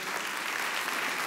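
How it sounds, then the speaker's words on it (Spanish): A church congregation standing to applaud a pastor, producing dense, even applause that fills the whole short moment, loud and close, with no voices on top. "Yo quiero pedirles que se pongan de pie para que le podamos dar un aplauso."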